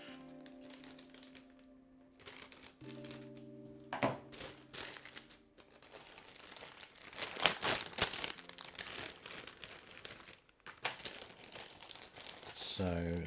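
Plastic bags holding Transformers Blokees model kit runners being opened and handled, with close, loud bursts of crinkling and rustling plastic, alongside a voice speaking.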